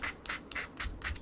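Sandpaper rubs down the edge of cut leather, crocodile-pattern side bonded to oil leather, in about five loud, quick strokes, each a rasping scratch with short gaps between.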